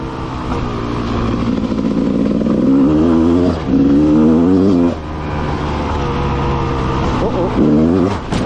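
An enduro motorcycle engine revs and pulls away, rising and falling in pitch through several throttle bursts, loud and close, with the rider's voice mixed in.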